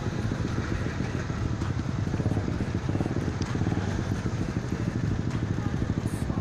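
A motorcycle fitted with a loud aftermarket racing exhaust runs in a steady, rough, throbbing drone close by, filling the whole stretch with constant engine clatter.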